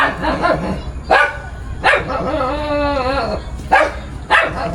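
A dog barks close by in a few sharp separate bursts, with whimpering yips in between.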